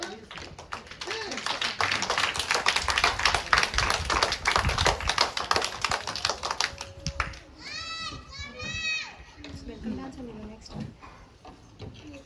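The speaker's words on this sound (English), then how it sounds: "Clap, children. Clap." A crowd of schoolchildren claps together at a children's day celebration, a dense stretch of loud, steady applause for several seconds that then fades, followed by scattered children's voices and a few sung or called notes.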